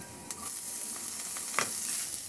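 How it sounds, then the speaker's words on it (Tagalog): Garlic frying in hot oil in a pan after ginger, a steady close sizzle with a few light scrapes of stirring, no voices. "Ihalo lang din hanggang sa maluto lang din yung bawang."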